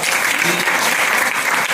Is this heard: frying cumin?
no